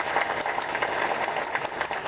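Applause from a gathered audience at a school flag ceremony for Indonesia's 77th Independence Day, a fairly even, moderately distant patter of many hands clapping.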